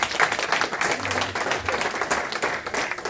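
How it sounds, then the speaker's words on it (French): Audience applause at a gathering, a dense broadband patter of many hands clapping steadily for about three seconds with a faint voice briefly underneath. "Est-ce qu'on peut applaudir?"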